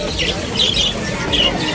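Birds squawk in short harsh bursts at a pet market, loud and close, three or four calls over a steady crowded background hum.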